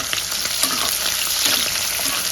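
Onions and green chilli pieces fry in hot oil for a village-style mushroom curry, giving a steady, close, dense sizzle with faint stirring clicks throughout and no talking.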